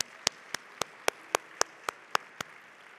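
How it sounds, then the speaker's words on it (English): At a national Hispanic business conference, a round of applause for the session's speakers comes through as about a dozen crisp, evenly spaced claps from a single pair of hands close by, in a steady rhythm over faint background. "Could we get another round of applause for all of our speakers during the session today?"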